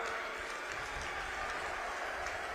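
A steady wash of dense crowd applause fills an outdoor political rally in Jagadhri, Yamunanagar, Haryana, with Amit Shah present. The clapping is continuous and even, somewhat distant, and holds for the whole stretch.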